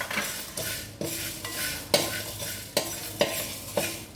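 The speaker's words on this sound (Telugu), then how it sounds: "ఇవి సువాసన రావాలండి, అలా వేయించాలి" Whole spices such as peppercorns and cloves dry-roast in a pan for a spice powder, stirred in about eight scraping strokes roughly every half second over a faint sizzle, close and clear with no speech.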